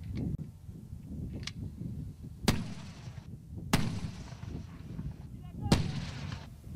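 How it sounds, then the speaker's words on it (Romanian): Mortar fire during a military exercise in a valley at the Smârdan training range, three sharp booming blasts spaced about a second or two apart over a low rumbling outdoor background, moderately distant. "Liniștea dimineții a fost ruptă pe Valea Măliniei de aruncătoarele de bombe."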